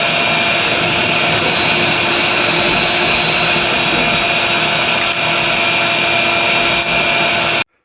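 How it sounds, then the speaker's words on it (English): A vacuum cleaner runs steadily and loudly while cleaning out the floor of a 1978 Ford Bronco. The broadband whine holds constant for several seconds and then cuts off abruptly at the end. "Now I'll get a vacuum and we'll vacuum this out."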